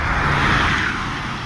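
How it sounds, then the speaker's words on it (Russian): Cars drive along the Moscow River embankment, a steady close roar of passing traffic with road noise, no voices. "Машины ездят."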